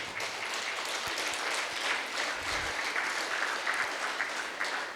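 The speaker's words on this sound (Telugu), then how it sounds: "వాలంటీర్స్కి అందరు గట్టిగా చప్పట్లు ఒకసారి" An audience applauds volunteers at a music and meditation programme, with steady, dense clapping from many hands at a moderate level for the whole stretch and no speech over it.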